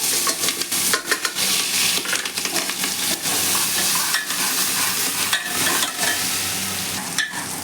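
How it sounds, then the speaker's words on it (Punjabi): Cumin fries in hot oil with a ginger, garlic and green chili paste for a potato, tomato and bell pepper dish. A loud, close, crackling sizzle is broken by repeated scraping stirs, with no talking. "ਜੀਰਾ ਚਟਕ ਗਿਆ ਹੈ ਜੀ ਨਾਲ ਪਾ ਦਵਾਂਗੇ ਆਪਾਂ ਅਦਰਕ ਲਸਣ ਔਰ ਹਰੀ ਮਿਰਚ ਦਾ ਪੇਸਟ"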